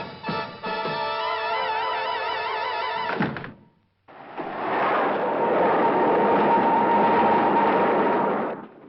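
Train machinery at a railway depot, first a heavy clunking mechanism with a whining tonal hum, then a brief hush and a loud sustained rumbling roll with a steady tone.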